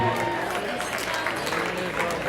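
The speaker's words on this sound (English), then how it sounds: "Give a huge round of applause for yourself for being here today, ladies and gentlemen." Wedding reception guests applaud as festivities begin, a dense, steady wash of many hands clapping throughout a large room, continuous and even with no breaks.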